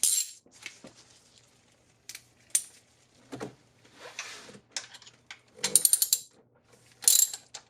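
A hand ratchet loosens the timing belt tensioner bolt on a 1999 Acura RL, giving several bursts of rapid metallic clicking separated by short pauses, close up and with no speech.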